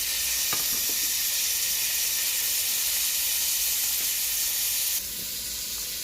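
Chopped carrot and tomatoes frying with onion and garlic for black bean soup, a loud, dense, continuous sizzling hiss that drops slightly in level near the end.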